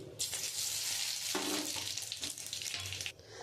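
Dried red chilies, bay leaf and radhuni hit hot oil in a kadai, giving a loud, broad, continuous sizzle and hiss that runs steadily and fades near the end.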